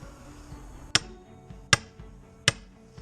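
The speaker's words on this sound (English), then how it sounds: "Switch over to this heavier sledge." A heavy sledgehammer drives a steel wedge into a log being split, three sharp, loud metallic strikes spaced about three quarters of a second apart over a low background.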